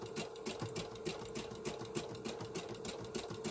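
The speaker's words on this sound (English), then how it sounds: "So I'm just using the serpentine stitch on my machine" A sewing machine running a serpentine stitch across fabric for a handmade phone bag, its needle clattering in a fast, steady rhythm close up, with no talking.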